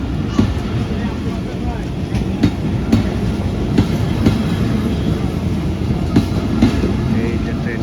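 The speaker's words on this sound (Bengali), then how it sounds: "এই যে ট্রেনটা চলে গেল।" A long passenger train with many coaches rolls through a Bangladeshi railway station at Pabna, a continuous loud rumble broken by repeated clickety-clack wheel beats over the rail joints.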